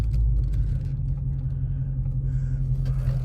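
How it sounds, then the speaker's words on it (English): A Dodge Charger Scat Pack with the 392 engine pulls slowly into a gas station pump, giving a steady deep low rumble at idle and low speed, close by and with no talking. "I'm just pulling into this little gas pump real quick."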